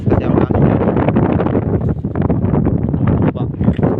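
Strong gusts on a farm batter the microphone with loud, rough, fluctuating rumbling and buffeting throughout.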